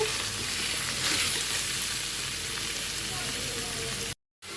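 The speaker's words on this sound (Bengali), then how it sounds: "এখন আমি এর মধ্যে হলুদের গুঁড়ো মরিচের গুঁড়ো ধনিয়া গুঁড়ো সব কিছু একসাথে মিক্স করা আছে এটার সাথে তো পরিমাণ মতো দিয়ে দিলাম এখন নেড়ে চেড়ে নেব" Vegetables fry in a pan with turmeric, chili and coriander powder stirred through, giving a steady, dense sizzle that stays loud and even throughout, with no voices over it.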